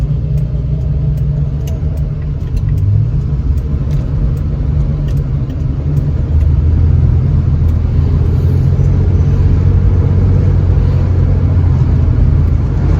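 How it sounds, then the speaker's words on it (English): Loud, steady low rumble of road and wind noise inside a 1974 Plymouth Valiant moving at 40 mph with the triangle windows open, continuous throughout with no talking. "you can hear it is quite loud in here because I've got the triangle windows open"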